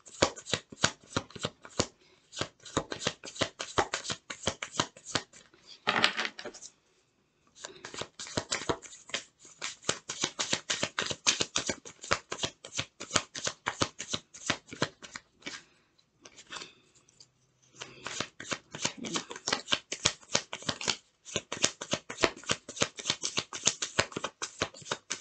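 Tarot cards shuffled by hand in a long, steady riffling stream, loud and close, with two brief pauses, and no speech.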